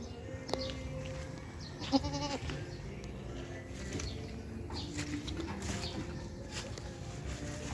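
Goats bleat in and around a raised bamboo and concrete pen on a farm, with small kids among them. Several scattered calls, some near and some farther off, rise over a steady rural background.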